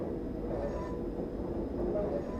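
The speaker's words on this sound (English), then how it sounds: "we're leaving at the same time as another train" Steady low rumble of an M978 train departing in Train Simulator 2017, a continuous rolling drone with faint rail noise.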